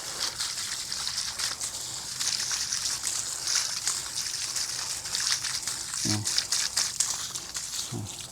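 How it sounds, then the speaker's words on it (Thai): Tap water runs steadily in a hissy stream while plant cuttings are rinsed, with brief low knocks and handling sounds partway through. "ทีนี้เปิดน้ำหน่อยต่อ เราก็ล้างออกเนี้ย"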